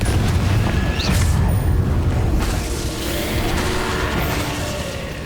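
Confringo spell explosions in Hogwarts Legacy on Nintendo Switch, a steady rumble of booming blasts and crashing impacts, loud and continuous with no voices.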